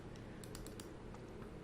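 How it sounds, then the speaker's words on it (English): Soft, quick keystrokes on a computer keyboard patter in an irregular run while someone enters accounting figures, faint and close with no talk. "so I'm going to just start typing."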